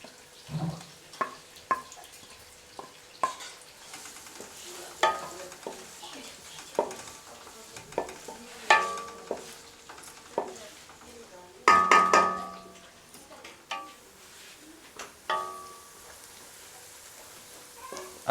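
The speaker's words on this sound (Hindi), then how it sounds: "हमारा कुकिंग ऑयल गर्म हो गया है। इसमें अब प्याज डालेंगे" Onions dropped into hot cooking oil for an arvi leaf and besan sabzi, giving a crackling sizzle with scattered stirring clatter and a loud burst of frying midway, close and continuous without talk.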